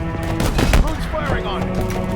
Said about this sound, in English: Who's firing on me?